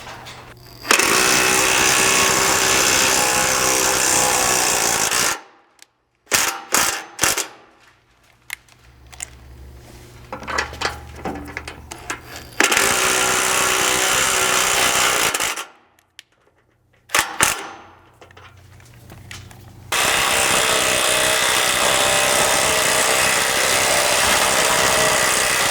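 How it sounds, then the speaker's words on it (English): Power tool driving three thread-cutting bolts while installing a rock slider on a Ford Bronco, with loud sustained bursts of whirring and grinding separated by quieter pauses of clicks and handling noise. "you can go in and install these 3 thread cutting bolts"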